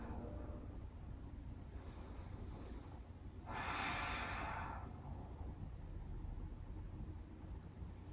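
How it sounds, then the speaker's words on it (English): A slow, deep breath during a beginner yoga class, a soft breathy exhale swelling in the middle over a quiet, hissy room background, with no talking. "just take a couple of deep breaths here"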